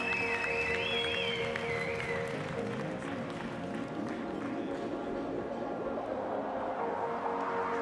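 A crowd at a regional contest applauds a third-place winner, sustained clapping spread through a hall, moderately distant and fairly soft, with voices mixed in.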